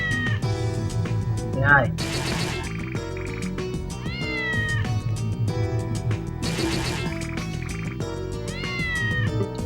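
A cat meows repeatedly over a live game stream, short plaintive calls and a longer caterwaul mixed under loud chiptune-style game music, with a brief spoken word heard.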